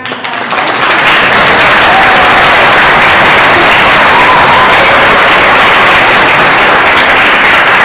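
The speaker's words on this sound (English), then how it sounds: "So let's go ahead and give a big round of applause." A concert audience at a winter orchestra performance applauds loudly and steadily, a dense wash of clapping that swells in within the first second and carries on without a break.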